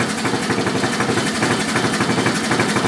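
Close and loud, a 12 hp Briggs and Stratton engine holds a slow idle, putting out a rough, rhythmic chug of regular firing beats that keeps steady throughout, with no talking.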